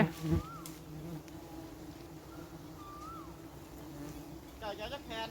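Giant honey bees swarming around a light at night, a close buzzing drone with passing whines of individual bees and a brief knock near the start.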